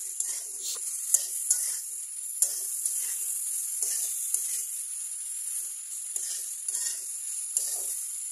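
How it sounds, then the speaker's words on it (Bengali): Vegetables frying and being stirred into a spice paste in a pan at home, a steady high sizzle broken by repeated stirring scrapes at an uneven rhythm, close up with no talking. "মশলার মধ্যে এখন আমি তরকারিগুলো দিয়ে তরকারিটা ভালো করে কষিয়ে নেব।"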